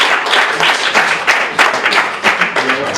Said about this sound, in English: big round of applause to all the teams